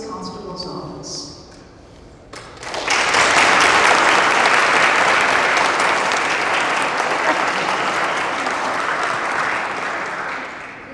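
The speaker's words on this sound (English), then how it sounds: "give another warm applause to Chris Willingham" A crowd at an Animals in War & Peace medal ceremony at the U.S. Capitol breaks into loud, sustained applause after a brief spoken moment, the clapping filling the room and slowly easing off.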